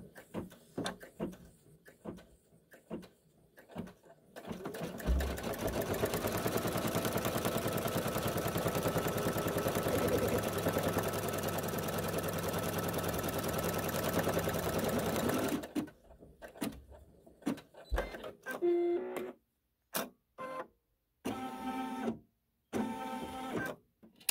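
An embroidery machine stitches a placement and tack-down outline for a Halloween haunted house quilt block, running steadily and close for about ten seconds. Brief handling clicks and rustles come before and after the run.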